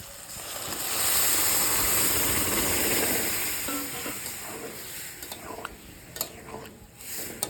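Masala paste frying in a pan for a dhaba-style egg tarka, a broad steady sizzle that swells early then settles, with scattered ticks and clinks toward the end.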